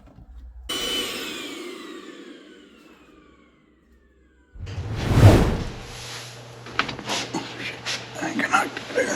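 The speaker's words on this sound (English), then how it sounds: "Guess I could vacuum." A vacuum cleaner runs inside the cabin of a retro Lamborghini Countach. Its motor whine winds down, then loud, close suction and handling noise starts again, with someone talking over it.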